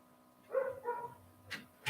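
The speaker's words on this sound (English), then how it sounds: "Why is Panda barking?" A dog in a basement gives a few faint, muffled barks in quick succession, followed by a couple of sharp, brief sounds in an otherwise quiet indoor space.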